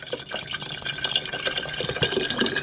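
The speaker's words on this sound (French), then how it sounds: "Je vais y ajouter" Water pours into a hot pan of balsamic vinegar, a steady, close splashing and hissing stream that runs without pause and without speech.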